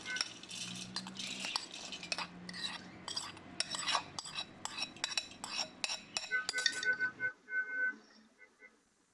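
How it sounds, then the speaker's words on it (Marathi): Sweet corn bhel being scraped and spooned from a small bowl into a bigger one, giving repeated close metal-on-bowl clinks and scraping in an uneven rhythm that thins out to a few soft taps near the end. "त्यामुळे मी आता मोठ्या बोलमध्ये ट्रान्सफर करत आहे."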